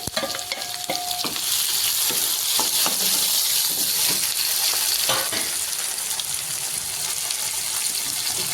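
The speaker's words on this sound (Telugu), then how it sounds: "ఇప్పుడైతే మనం టమోటాలు వేసేసుకున్నాం." Tomatoes and curry leaves frying in a pan, a loud continuous hiss and sizzle that swells after the first second, with occasional stirring clinks and scrapes close by.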